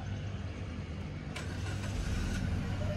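A car engine, in a car with a manual clutch, runs as a steady low rumble throughout, with a few brief mid-range clicks and a faint rising tone near the end; no one speaks.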